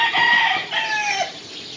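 A rooster crows in one long, loud, drawn-out call with a wavering tone, fairly close, with no talking.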